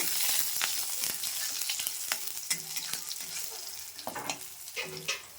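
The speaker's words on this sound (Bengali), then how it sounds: "তো ফার্স্ট একটু রসুনটা আমি ভেজে ভেজে নেব" Garlic fries in a pan in a home kitchen with a close, steady sizzle and intermittent scraping stirs and clinks of a spatula. No one speaks.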